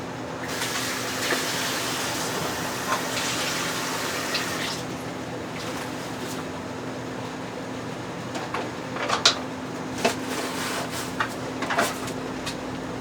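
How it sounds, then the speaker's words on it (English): A cutting board washed under a running kitchen tap, with a steady faint rush of water, a low hum and scattered soft knocks and clatters growing more frequent toward the end, with no speech. "I'm going to have to wash this cutting board here."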